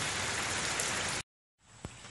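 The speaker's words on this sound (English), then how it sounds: "I'm about to have to walk out there in the rain" Steady dense rain falls outside, loud and hissing, then cuts out briefly before returning more softly with a single thump.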